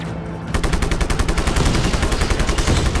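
Rapid automatic gunfire from the Just Cause 3 video game, a loud, sustained burst of repeated shots starting after a brief quieter moment and continuing steadily to the end.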